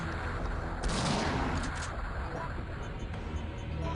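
Shotgun fire in Resident Evil 3 Nemesis, a loud blast cluster near the start followed by a sustained rumbling wash of game sound, with someone talking over it.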